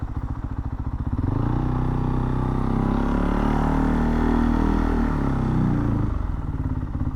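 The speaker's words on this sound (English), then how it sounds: "I see a motorbike" A motorbike passes along a road in China, its engine note swelling steadily as it draws near, holding loud for several seconds, then easing off as it moves away.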